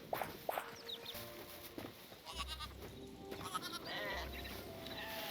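Sheep in the video game Hytale give a couple of soft bleats mid-moment over a quiet outdoor background, with light footstep-like clicks and a low hum coming and going.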